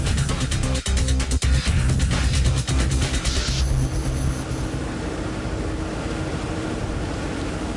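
Helicopter landing aboard an Aegis cruiser in heavy seas, heard as a loud, steady roar of rotor and engine noise with rhythmic low thumping, which eases into broadband wind and sea rush partway through.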